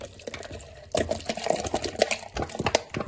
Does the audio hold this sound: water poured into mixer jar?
yes